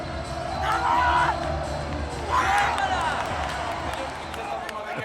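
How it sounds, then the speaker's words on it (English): Enthusiastic Paralympic athletics crowd in Paris cheering and shouting, swelling loudly in two surges with bursts of applause and a steady background of mixed voices. "was able to celebrate with an enthusiastic crowd"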